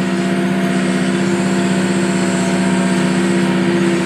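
McCormick tractor engine running steadily under load while bush hogging on trails, a loud, continuous droning hum with a strong low tone and no pauses.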